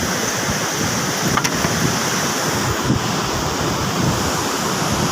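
Large sea waves rolling and crashing during the southwest monsoon, a steady broadband roar of surf with wind buffeting the microphone, continuous and close, with no speech.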